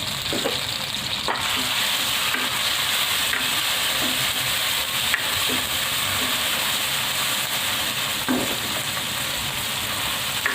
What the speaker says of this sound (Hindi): टमाटर और प्याज जब आपस में मिले तो उन्होंने बहुत ज़्यादा शोर करना शुरू कर दिया है।